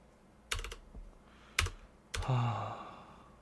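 A few sharp keystrokes on a wireless computer keyboard, three separate clicks close by in a quiet room, the last followed by a brief low hum.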